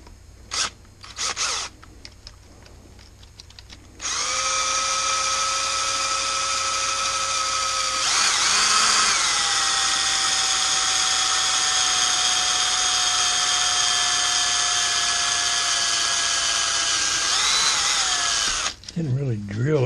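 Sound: drill going through plastic bottle

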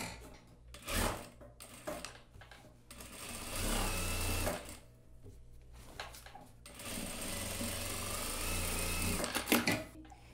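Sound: straight-stitch sewing machine reinforcing blazer waist seam

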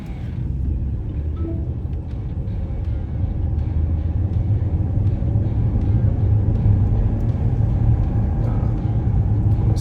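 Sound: Lynk & Co 900 car accelerating from 17 km/h

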